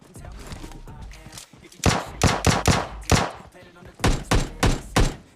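PUBG Mobile Lite gunfire from bots fighting each other: bursts of rapid automatic shots in two clusters, loud and close, with a quieter stretch of background game sound before them.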